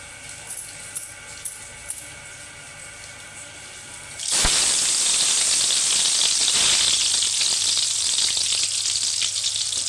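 Bitter gourd slices dropped into hot oil for bajji: quiet room tone and a few light taps, then a sudden loud, close sizzle that keeps crackling steadily to the end.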